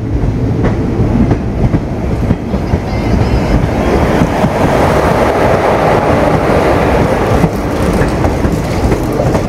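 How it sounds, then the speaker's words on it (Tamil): A banker locomotive pushes the Madurai–Guruvayur Express, heard as a loud, steady rail rumble with rhythmic clickety-clack of wagons passing close by, wind buffeting the microphone throughout. "இது மதுரை குருவாயூர் எக்ஸ்பிரஸ்க்கான பேங்கருங்க."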